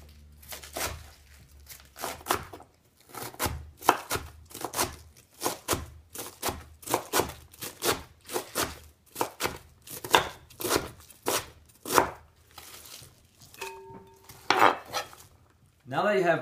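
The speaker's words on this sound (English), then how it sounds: "today I'm just going to use the knife and do it old-fashioned way. So cut it into as many halves as you can" A knife cuts through cabbage for sauerkraut with steady, sharp chops, about two per second, striking a cutting board up close; some scraping and a brief clink come near the end, with no talking.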